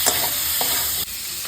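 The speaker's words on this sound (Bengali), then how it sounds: "আবার চিকেনটাকে একটু ভালো মতন ভাজা হবে পেঁয়াজ আর রসুনের সাথে।" Chicken frying in a pan with onion and garlic gives a bright, steady sizzle, broken by a few scraping stirring strokes near at hand.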